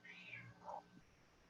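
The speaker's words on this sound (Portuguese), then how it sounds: "Tem um gato aqui." A cat gives a couple of short meows, fairly faint and alone, with a quiet background and no talking.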